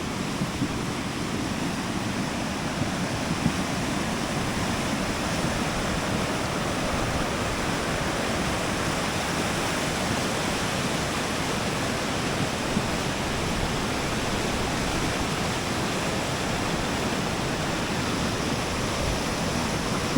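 A river swollen by rain roars loudly and steadily, with boulders rolling along its bed; the dense, unbroken rushing of water fills the whole stretch evenly, with no talking.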